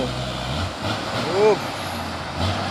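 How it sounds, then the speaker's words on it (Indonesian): A loaded Hino tanker truck climbing an uphill road gives a low, steady engine drone with a brief rising tonal whine midway, close and fairly loud, while people talk over it. "Truk tangki Hino."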